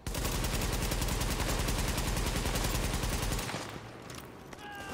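Rapid video game gunfire pours out in a dense, continuous burst of automatic shots while an enemy is shot in the back, loud and unbroken for about three seconds before cutting off to quieter game sounds.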